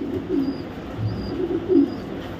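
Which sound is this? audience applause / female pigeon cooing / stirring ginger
female pigeon cooing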